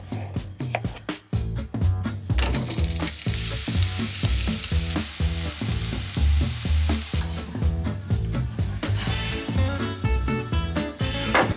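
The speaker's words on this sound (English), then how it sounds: "Gonna fry this to perfection." Tinned corned beef fries in a pan on a narrowboat, making a continuous close sizzle and crackle with intermittent scraping and stirring, and no voices.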